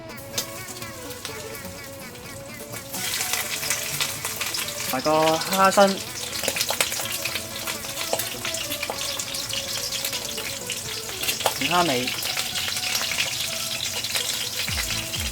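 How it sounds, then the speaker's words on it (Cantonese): Lobster head and body pan-fry in hot oil in a wok after a light salt and cornstarch coating, giving a steady loud sizzle that builds after a quiet start, with brief talk over it. "我哋半煎炸咁樣落咗個龍蝦頭先"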